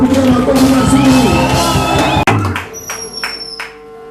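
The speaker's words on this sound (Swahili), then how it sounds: "Acha tushangilie Bwana na kumpigia makofi mazuri." Church congregation cheering, shouting and whooping loudly together at close range, then fading after a sharp break into scattered claps and a few raised voices.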